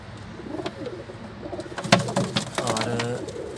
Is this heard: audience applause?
no